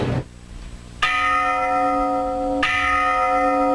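A church bell in Jaltepec, Huauchinango, tolls in mourning, with two loud, ringing strikes about a second and a half apart, each leaving a long, humming decay.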